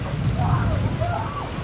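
Steady rainfall patters on surfaces, constant and fairly close, while a faint voice or call rises briefly in the middle.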